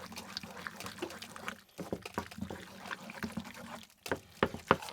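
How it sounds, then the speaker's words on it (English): Starchy pasta water trickles and drips into a bowl of egg and Parmesan mixture with bacon, a faint, uneven splashing pour with a few sharper clinks and drops toward the end. "we're also gonna take the pasta water,"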